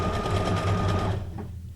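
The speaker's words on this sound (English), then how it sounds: "the Brother SQ9185 sewing machine" A Brother SQ9185 sewing machine stitches at steady speed, its motor whirring loud and close with a rapid rhythmic needle chatter before slowing toward the end.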